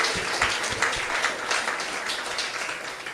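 A crowd at the Twinings Morning Tea launch event applauds women and charities, a brisk, continuous patter of many hands clapping at fairly close range, even in level throughout.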